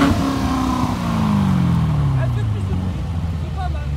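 A loud, close engine note from a Ferrari 458 Speciale and a Corvette at a countryside supercar gathering near Nancy, its pitch sliding steadily downward as it winds down, with some background voices.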